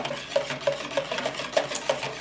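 Cream is whisked by hand in a bowl, giving a quick, even run of soft clicking strokes, close and steady with no talk.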